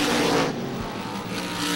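ISMA supermodified race cars at Star Speedway running single file down the backstretch in 1996, a loud continuous engine roar that swells and fades slightly as the cars pass.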